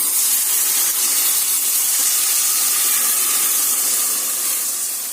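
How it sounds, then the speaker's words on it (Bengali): Hot milk poured into a pan of cooking carrot halwa, a steady broad hiss and rush that runs unbroken and fairly loud throughout, easing slightly at the very end. "সেই দুধটা আমি এর মধ্যে দিয়ে দেব।"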